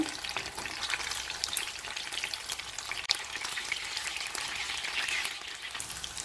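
Masala-coated king fish fries in hot oil with a loud, steady sizzle and crackle, dense and close throughout, with a single sharp pop midway and no talking.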